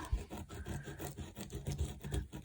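A hard rubber remover rubbed over watercolour paper to lift dried masking fluid, a quiet close scratchy rasping in quick repeated strokes, steady and rhythmic with no talking.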